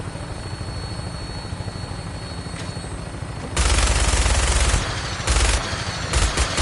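A helicopter drones steadily in flight in Fallout 4, then a mounted minigun erupts in loud sustained bursts over the rotor noise, firing again in shorter bursts.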